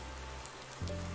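Steady rain falls in the Thuringian countryside as a dense, even hiss, with a low engine-like drone humming underneath.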